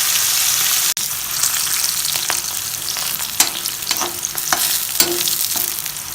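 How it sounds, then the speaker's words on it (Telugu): Bitter gourd pieces deep frying in hot oil, a steady sizzling hiss with occasional louder crackles and pops throughout, no voices. "మిగిలిన ముక్కలు కూడా వేసి ఇలాగే డీప్ ఫ్రై చేసి పక్కన పెట్టుకోవాలి."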